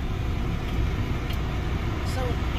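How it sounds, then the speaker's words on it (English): Air conditioning fan running inside a car driving through a safari park, a steady broadband whoosh with low engine rumble beneath, constant and close. "Excuse the fan, we had to put the AC on"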